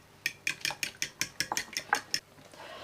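A utensil stirs a quiche filling of cream and milk in a bowl, giving about ten sharp, evenly paced metallic clinks up close before falling quiet.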